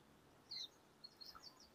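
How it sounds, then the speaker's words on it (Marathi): Faint, distant birds give a few short chirps and tweets over quiet outdoor ambience during a calm seated yoga meditation. "दूरवरून येणारे पक्ष्यांचे आवाज"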